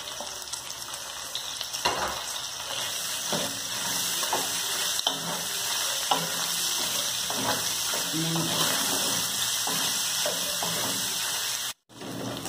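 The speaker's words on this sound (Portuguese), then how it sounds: "Ó, tá fritando." Bacon and sausage frying together in a pan, a steady close sizzle with scattered crackles and pops, cut off briefly near the end.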